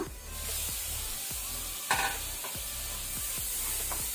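Chopped onion and tomato fry in a pan for aloo methi palya, a soft steady sizzle with scraping stirs and one brief sharp clink of the spoon partway through.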